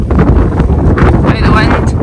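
Strong wind buffets the microphone in the Scottish Highlands, a loud continuous rumbling roar that fills the whole clip.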